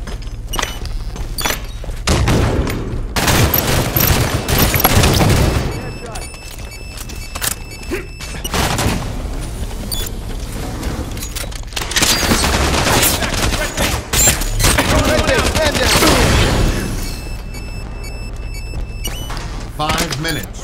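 Rapid bursts of automatic weapon fire and thudding impacts in a Halo 5 Guardians Slayer multiplayer match on Eden, loud and repeated in clusters, with in-game voices calling out over the shooting.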